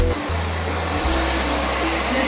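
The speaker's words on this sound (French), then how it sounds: "L'aspirateur s'est cassé." Household vacuum cleaner running loud and close during bedroom cleaning, a steady broadband roar with a low motor hum that briefly dips and restarts, no voices.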